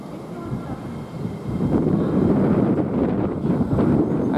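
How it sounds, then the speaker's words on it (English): A Hull Trains service from London King's Cross, set 802-302, rumbles through Grantham station, a low rolling roar that swells after the first second and stays loud, with wind buffeting the microphone. "Now we got another service coming from London King's Cross to Hull, working on Hull trains."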